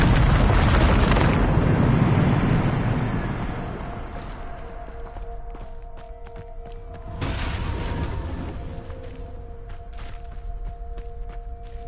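A Bombarda spell explosion in a video game sets off a loud, deep booming blast with a long rumbling decay, then a second smaller burst, followed by lingering tonal hum and debris rattle.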